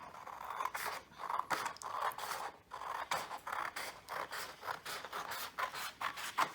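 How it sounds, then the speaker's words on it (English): Scissors snip through paper in a quick, uneven series of close, soft cuts and rustles, with no talking. "So then you can grab some scissors."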